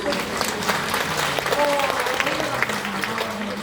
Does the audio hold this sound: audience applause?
yes